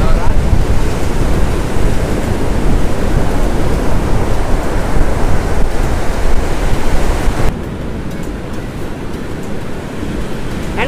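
Ocean waves crash and wash against the rocks at Rock Beach in a loud, unbroken roar of surf, easing slightly toward the end, with wind buffeting the microphone.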